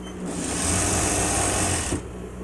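Sewing machine stitching a string inside a large pull-string fabric bag, one continuous whirring run of about two seconds with a rapid needle chatter, close and fairly loud.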